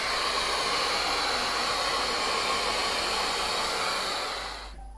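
A hair dryer blows steadily on a feeder rat, a loud, even airy whoosh that holds for several seconds before cutting off near the end.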